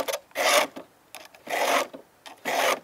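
A hand file rasps across a chainsaw chain's cutters in three steady, close strokes about a second apart, with brief pauses between them.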